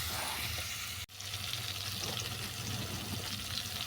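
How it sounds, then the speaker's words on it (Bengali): Bottle gourd greens sautéed with mixed vegetables in a pan, a steady close sizzle broken by one brief dropout, with faint stirring scrapes and no talking. "আরও কিছুক্ষণ কষিয়ে নেব"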